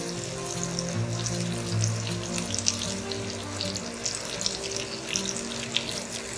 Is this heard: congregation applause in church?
no